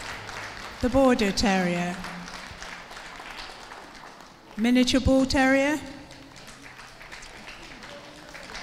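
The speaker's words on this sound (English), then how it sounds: "Let's have a round of applause for all of these dogs." Steady crowd applause for terriers at a championship dog show hall runs as a continuous wash beneath an announcer calling out breed names over the speakers.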